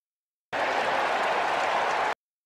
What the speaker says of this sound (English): you do get that sort of swelling noise in the crowd, that swelling of excitement that you can use in your OTP game